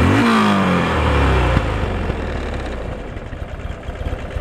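A 2004 Buell XP12R Firebolt motorcycle with a 1200 Harley engine revs hard and then drops back to a rough, throbbing idle, loud and close with no voices.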